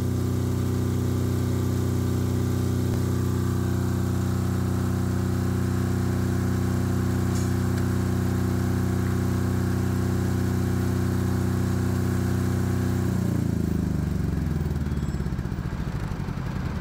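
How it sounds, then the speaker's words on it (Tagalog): A backup power generator runs loudly with a steady mechanical drone and hum, close and continuous, then its tone shifts and winds down near the end as it changes state. "Ang generator po natin naka-on. Automatic naka-on pa rin."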